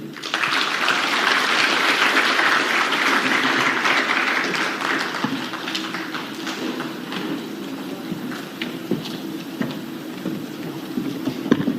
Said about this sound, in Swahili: Asante sana Mama Mnangagwa, naomba tumpigie makofi tena kwa remarks zake.